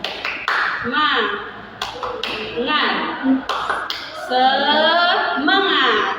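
Schoolchildren in a maths classroom clap sharp, rhythmic beats in unison while chanting a spirited group cheer, with their voices loud and close alongside the claps.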